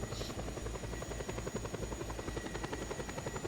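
Helicopter in Just Cause 2, its rotor chopping in a fast, steady beat over a continuous engine drone, close and sustained throughout.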